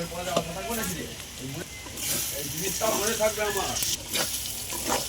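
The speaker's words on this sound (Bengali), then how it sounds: "তো পটলটা আমি ভালো করে ভেজে নেব" Pointed gourd (potol) frying in oil with black cumin, a close crackling sizzle with stirring bursts, while a voice talks over it at times.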